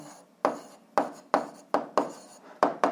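A pen writes on paper in seven quick, evenly spaced scratchy strokes, close and clear, while an algebra answer is jotted down with no talk.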